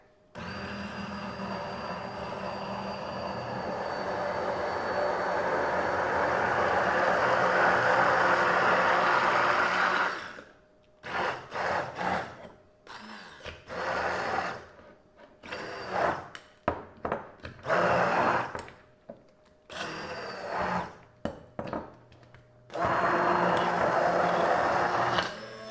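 A blender runs steadily and loudly for about ten seconds while emulsifying avocado oil mayonnaise, then cuts in and out in short bursts before one last sustained run.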